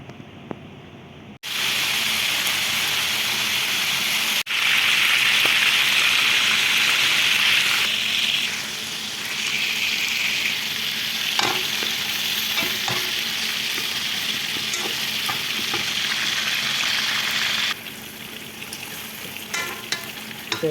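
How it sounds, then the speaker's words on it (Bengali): Ginger and garlic frying for chicken biryani, cooked in a home kitchen in Qatar. A loud, steady sizzle holds close throughout, swelling and easing as the pan is stirred, with no talking. "এখন আমি এগুলোর ফ্রাই করব।"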